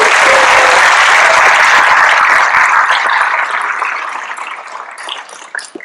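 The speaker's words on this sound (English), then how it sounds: "can we give a round of applause to my parents over here?" Graduation audience applauding loudly and densely, the clapping tapering off over the final seconds.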